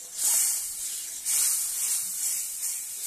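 Water poured into a hot pan of spiced whole potatoes for aloo dum, giving a loud, steady close hiss of steam in repeated surging waves.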